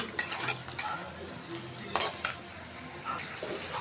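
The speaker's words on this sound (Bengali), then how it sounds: "আজকে গোস্তগুলা ভেজে নিতেছি।" Marinated meat frying in a pan for biryani, a steady sizzle broken by repeated scrapes and clinks of a spoon stirring against the metal, close and fairly quiet.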